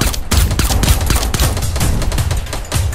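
Dense gunfire rattles in a Fortnite battle royale match, rapid overlapping shots in a continuous loud burst lasting a few seconds, with no voices.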